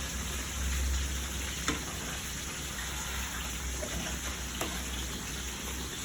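Onion and tomato fry in a pan with a constant close crackle and hiss, much like steady rain. A few faint scrapes from a utensil sound over it, and nobody speaks.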